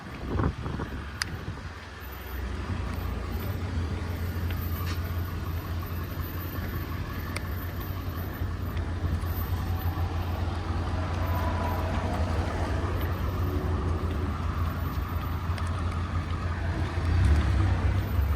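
Heavy road traffic on Fraser Street in Vancouver, a continuous low engine rumble of passing cars and trucks with wind noise, moderately loud and steady, with no one speaking.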